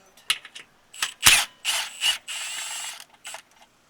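Ratchet clicking in short bursts as a small 10 mm shield bolt comes out on a Jeep Gladiator, close and fairly quiet, with brief pauses between runs of rapid pawl ticks.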